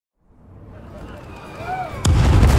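Fireworks in the video game Gangs of Sherwood: rising whistles climb for a couple of seconds, then a loud, broad explosive burst booms and rumbles on.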